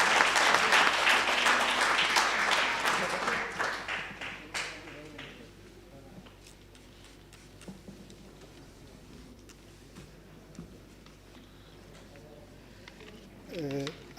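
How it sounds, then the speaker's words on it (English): Audience applause at the official opening and renaming of the Ibhayi building, loud at first and fading out after a few seconds, followed by quiet room sounds and a brief stir near the end. "Another round of applause."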